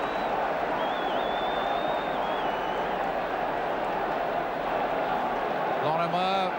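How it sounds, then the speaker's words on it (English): A football crowd at a 1969–1983 Leeds United match roars loudly and steadily after a handball award, a dense continuous wall of noise with a commentator's voice over it. "an enormous roar from the crowd"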